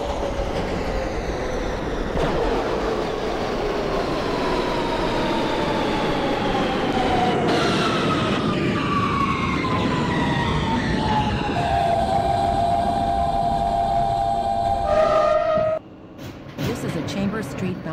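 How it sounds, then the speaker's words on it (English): An R160B Siemens subway train runs in the OpenBVE train simulator game, its motor hum and rising traction whine climbing steadily under rolling wheel noise, with a brief drop near the end. "This is a Chamber Street bound T local train."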